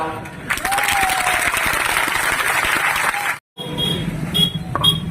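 An audience at a political speech breaks into dense, sustained clapping that cuts off abruptly, followed by scattered claps and murmuring voices.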